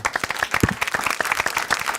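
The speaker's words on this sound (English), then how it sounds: "y'all can clap better than that" Audience applause after a live show set, a dense burst of many hands clapping at close range, steady and loud for the whole stretch.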